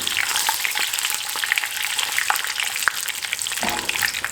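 Whole red chillies and cumin seeds sizzle and crackle steadily in hot oil for a tadka, with a bright, continuous frying hiss and scattered pops throughout.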